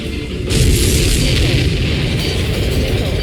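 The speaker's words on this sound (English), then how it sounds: "Did you see that explosion? Looks like that's one of them down." A supply ship blows up in the Ace Combat 7 video game, a loud sustained explosive roar with a sharp onset that keeps rumbling heavily under layered game noise.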